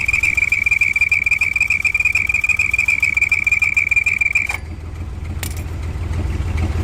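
A car engine idling with whistles fitted, a loud steady high-pitched whistle riding over the low rumble of the tick over, then the whistle cuts out abruptly and the engine note rises slightly.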